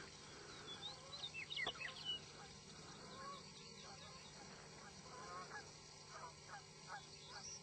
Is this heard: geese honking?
yes